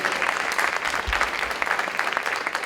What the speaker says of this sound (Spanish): El aplauso para Claudia Guadalupe.